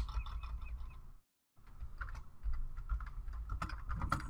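Fast computer keyboard typing, with quiet, steady clicking that breaks off for a moment and then carries on, close and fairly soft, with faint bird-like chirps in the background.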